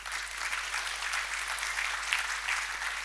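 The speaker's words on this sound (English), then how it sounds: "a warm round of applause for all the panelists" Audience applause for the panelists at a conference livestream session, a dense and steady patter of many hands clapping at moderate level, heard alone without talk, with a low steady hum beneath it.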